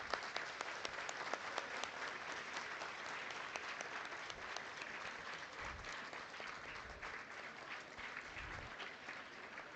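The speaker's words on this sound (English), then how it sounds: "Kindly clap for him." A conference audience claps in steady, even applause for a former principal at a plenary session, a continuous patter of hands heard quite faintly and at a distance, with occasional low thumps beneath it.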